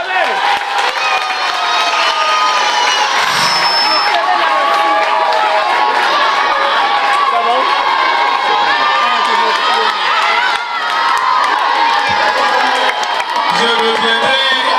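A big crowd cheers, whoops and applauds continuously, loud and sustained throughout, with shouting voices blended into the roar.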